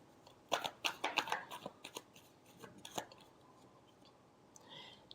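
Tarot cards shuffled by hand, a quick flurry of close crisp riffling slaps that thins into a few softer scattered flicks.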